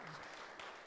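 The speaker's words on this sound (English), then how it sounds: "give them a big round of applause" An audience applauds the organizers at a tech conference's opening keynote in Montreal, a dense burst of many hands clapping at once, heard only for a brief moment.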